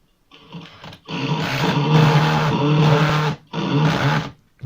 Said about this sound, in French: je visse le boîtier sur les tasseaux que j'avais mis